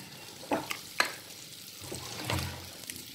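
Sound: stirring ground paste into pumpkin and bean erisseri

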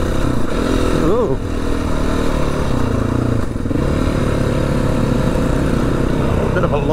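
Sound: motorcycle riding on bush tracks

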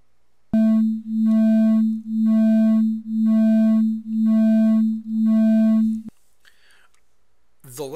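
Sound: two tones interfering to produce beats

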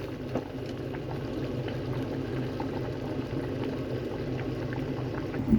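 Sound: pot of mushroom and pork bone soup boiling

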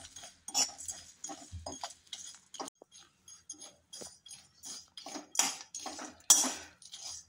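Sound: whole spices for garam masala roasting in a pan

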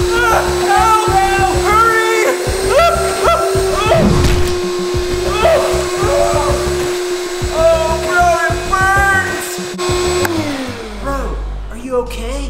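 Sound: vacuum cleaner running

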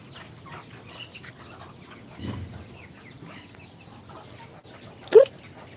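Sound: chickens clucking while being fed

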